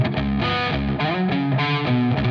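Heavily distorted electric guitar plays a slow riff with a slight whammy bar wiggle bending the sustained notes, loud, thick and continuous with no talking.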